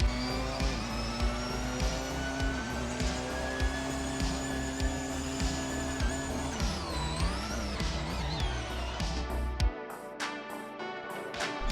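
Porsche 919 race car lapping Spa in a racing video game, its engine droning loud and steady with rising and falling revs through gear changes and a brief tire squeal, the engine note dropping away near the end.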